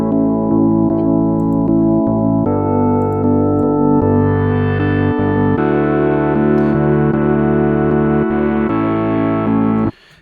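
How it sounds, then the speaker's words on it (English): Rhodes-style downtempo electric piano keys from a Massive synth, run through a sine shaper for added distortion and harmonics, play sustained, buzzy chords that shift every few seconds and stay loud before cutting off sharply at the end. "use a sine shaper, bring the drive down a little bit, bring the dry wet down a little bit as well"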